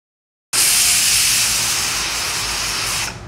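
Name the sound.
pressure cooker whistling steam while cooking khichdi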